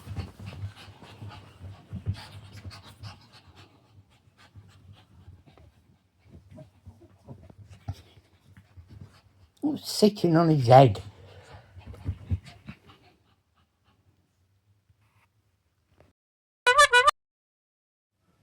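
A pet dog panting at home, quick soft breaths heard close under relaxed conversation, with a burst of louder whimpering and a brief sharp yelp later on.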